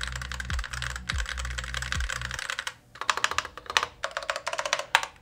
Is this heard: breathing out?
no